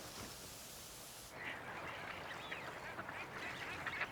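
Ducks quack faintly at a distance over a soft, steady outdoor background hiss at Minsmere wetland reserve in winter, with scattered calls rising in the latter half.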